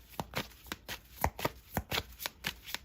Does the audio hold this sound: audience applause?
no